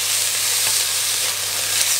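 Pork and broccoli stir-frying in a hot pan, giving a steady, loud close sizzle with a constant hissing texture throughout and no talking.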